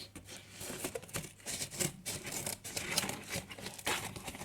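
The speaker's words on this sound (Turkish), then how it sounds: "Neyse ki makasım kartonu kesiyor." Close crunchy snipping and crinkling of stiff material, several quick cuts in an uneven rhythm, with no voices.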